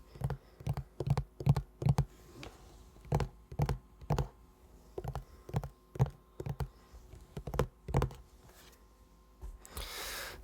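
Keys on a small MIDI keyboard are tapped close up in soft, irregular clicks, about a dozen separate taps with short gaps, followed by a brief rustle at the end.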